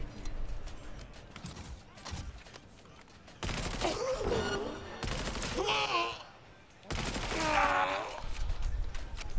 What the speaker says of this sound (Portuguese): Vamos testar essa minha arma aqui, ó.